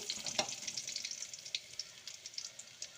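Dried red chillies and chopped shallots frying in oil with mustard seeds keep up a soft continuous sizzle, broken by light stirring taps and crackles, quiet and close with no speech.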